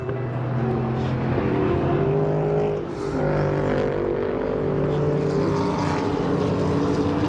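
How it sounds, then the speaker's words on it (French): GT World Challenge race car engines roaring loudly and continuously at a circuit, a steady dense mechanical drone with shifting tones as cars pass, no speech. "Je sais pas si vous entendez comme moi, mais les moteurs"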